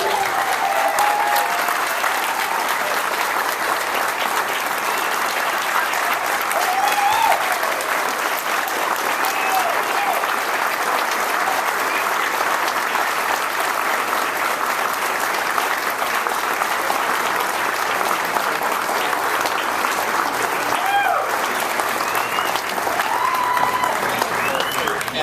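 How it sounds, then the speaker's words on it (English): Wedding guests give a long, sustained ovation for Maddie, steady loud clapping that continues without pause for nearly half a minute, with faint voices and cheers mixed in. "So please join with me and applaud our Maddie."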